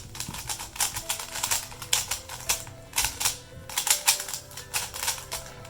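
A 3x3 Rubik's cube is turned fast and nonstop, producing close, rapid plastic clicking and clacking in a dense, uneven rhythm.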